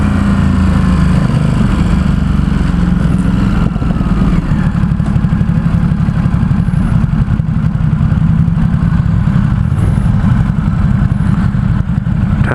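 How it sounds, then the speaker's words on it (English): Loud, steady rumble of a 2017 Ducati SuperSport S 950 V-twin engine while riding through San Francisco, a close, continuous throbbing drone with no talk. "It's got a V-twin engine,"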